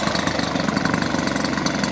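A small glow-fuel model airplane engine on a Norwegian Model Products F8F Bearcat scale model runs steadily, a dense, buzzy drone with rapid firing pulses, close and loud throughout with no pauses.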